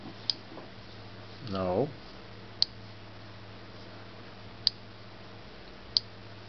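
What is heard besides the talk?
tapping on LG840G phone keyboard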